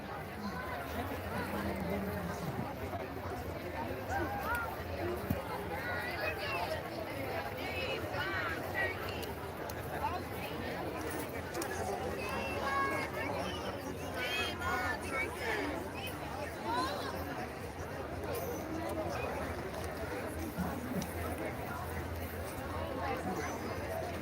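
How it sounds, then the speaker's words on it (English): Outdoor protest crowd chattering in a steady, dense babble of many voices, with a continuous murmur of overlapping speech and occasional louder shouts rising above it throughout. "Here's the crowd."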